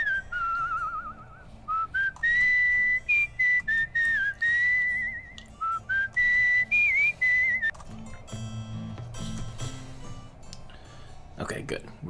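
Whistled melody from a traveling character in the video game Where the Water Tastes Like Wine, a steady tune of clear notes running for several seconds over a soft musical backdrop, with a brief rustling burst near the end.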